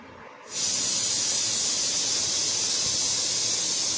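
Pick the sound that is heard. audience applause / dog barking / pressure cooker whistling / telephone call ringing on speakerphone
pressure cooker whistling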